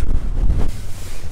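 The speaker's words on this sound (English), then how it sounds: "we haven't tested the wind this high before" Strong mountain wind buffets a campsite high on Cribyn, a steady roaring rush with low gusting rumble battering the microphone throughout, close and loud with no talk.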